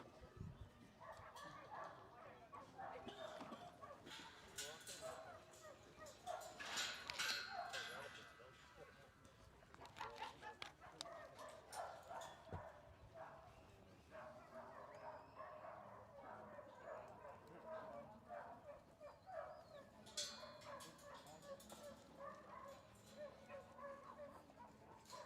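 Young working dogs in a yard bark repeatedly and yip excitedly at moderate distance in a busy chorus, with someone talking over them.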